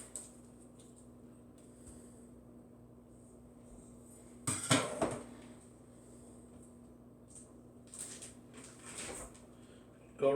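A sausage package is torn and crinkled open by hand in a home kitchen, with a short burst of sharp plastic rustling midway and more scattered crinkles near the end, over a quiet low hum.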